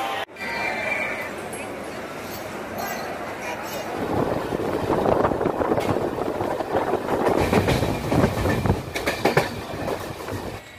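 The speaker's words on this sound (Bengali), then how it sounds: "পেছনে ঢুকছে মেমো" A MEMU commuter train pulls into a platform at Howrah station, rumbling and clattering louder from midway, with squealing screeches and metallic rattles over station crowd noise and a brief horn-like tone near the start.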